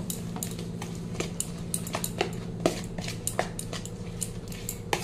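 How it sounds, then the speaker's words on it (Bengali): A spoon stirring semolina batter with egg and water in a bowl, with repeated light clinks and scrapes against the bowl over a low steady hum. "অল্প অল্প করে দেবো আর অল্প করে মিশিয়ে নেব।"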